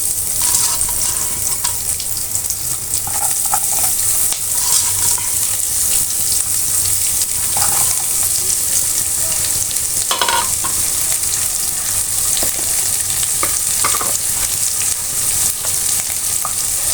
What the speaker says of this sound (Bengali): একটু তেল দিয়ে দেব। কাঁচামরিচ পেঁয়াজগুলো দিয়ে দিচ্ছি।